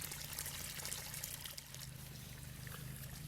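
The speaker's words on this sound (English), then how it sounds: "Again, you'll get another puff of dirty water coming out from the unit." Dirty water pours out of an Oase FiltoClear pressurised pond filter during a backwash, a steady continuous splashing trickle with a low hum underneath and no voices.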